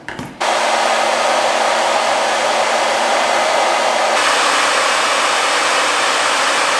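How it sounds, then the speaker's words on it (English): A hair dryer switches on after a brief moment and roars steadily at close range while blow-drying a 30-inch synthetic wig, a loud, constant blowing rush that shifts slightly in tone partway through. "I'm gonna go ahead and blow dry all the hair and just get it dry."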